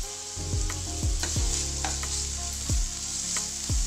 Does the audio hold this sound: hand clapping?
no